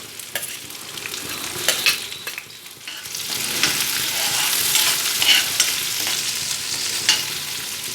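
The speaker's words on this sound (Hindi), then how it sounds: "अब प्याज डालेंगे, सबको हल्का सा गोल्डन ब्राउन कर लेंगे" Onions and green chillies frying in oil for Punjabi sarson ka saag, a bright continuous sizzle with intermittent stirring scrapes, close up, no talking.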